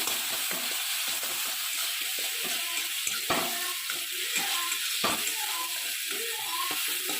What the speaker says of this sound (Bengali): কালো জিরে রসুন বাটা দিয়ে ভালো করে রসুনটা ভেজে নিলাম দেখুন